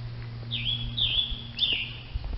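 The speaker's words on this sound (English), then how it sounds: "Did you hear that bird?" Outdoors, a bird gives three clear high whistled chirps about half a second apart over a low steady background hum.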